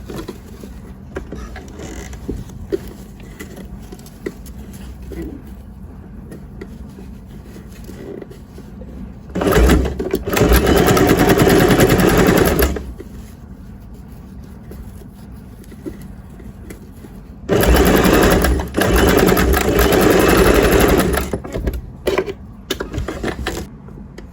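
An electric sewing machine stitches a men's trouser seam allowance and lining together, its motor running in two loud, steady bursts of a few seconds each over a constant low mechanical hum.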